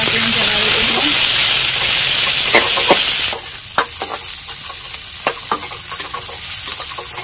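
Capsicum and cauliflower stirred in a frying pan while making a shop-style veggie burger filling: a loud steady sizzle for the first few seconds, then quieter frying with repeated scraping clicks of a spoon against the pan.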